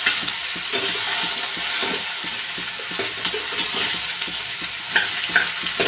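Pieces of ridge gourd fry in a pan, giving a loud continuous sizzle close by, with scattered clicks and scrapes as they are stirred.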